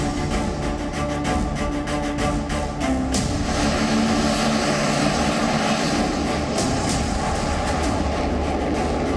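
The propeller engine of a Heron drone over Ladakh drones loudly and steadily, a continuous aircraft roar with a sustained tone and no pauses.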